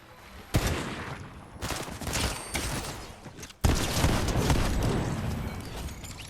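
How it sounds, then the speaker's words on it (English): Video-game gunfire in a battle royale match, two sudden loud bursts of shooting followed by sustained rattling fire and crackle, close and dense. "That's the guy who was shooting at us."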